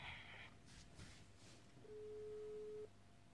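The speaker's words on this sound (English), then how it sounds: "It's ringing, guys." A phone call's ringback tone sounds while waiting for someone to pick up: one steady electronic beep about a second long, quiet, following faint handling noise and a brief earlier tone.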